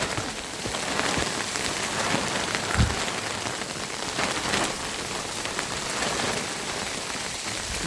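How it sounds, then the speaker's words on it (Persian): Heavy rain pours steadily and loudly onto a surface, a dense, continuous hiss with scattered nearby drips and splashes and no voices. "بارونه وای"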